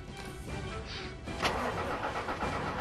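A car engine in the video game Disaster: Day of Crisis cranks and catches, a whirring starter followed by the engine firing into a steady mid-pitched running rumble, fairly close and continuous.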